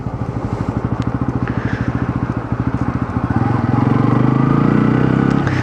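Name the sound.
motorcycle riding on Agumbe Ghat road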